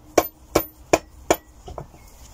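A plastic hammer taps the crankcase of a Honda CB125F engine four times in an even rhythm, each knock sharp and close, followed by two softer taps.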